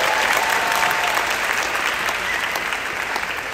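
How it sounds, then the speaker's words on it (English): Audience at a 2024 honors college orientation bursts into steady, dense applause, a loud crowd of many hands clapping throughout without a break. "this warrants an applause"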